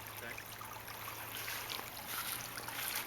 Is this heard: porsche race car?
no